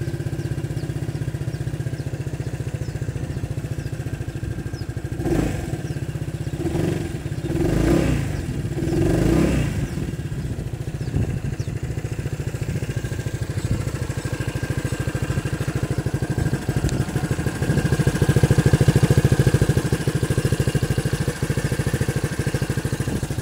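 An Aveta Vanguard 250 motorcycle with a Peugeot engine fires up after a few cranking bursts, then settles into a steady, close idle with a rattling, buzzing putter.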